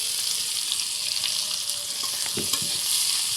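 Ginger, garlic, onion and green chilli frying in oil in a karai, giving a steady close sizzle throughout, with a brief burst of stirring clatter near the end.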